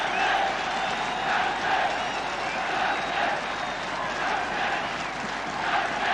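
Home supporters at a Newport County football match applaud and cheer their team, a broad steady wash of clapping and crowd noise swelling gently across the whole stretch, with no talk over it.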